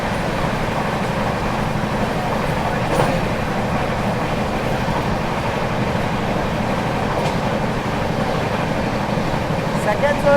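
A passenger train on the Bengaluru–Shirdi direct service runs through a station near Kalluru junction. A loud, continuous rumble and rolling rattle hold steady for the whole stretch.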